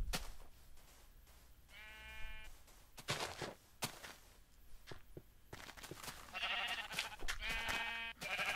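Sheep in the video game Minecraft bleat in short wavering cries, one early and a couple more later, amid soft game footsteps and clicks at moderate volume.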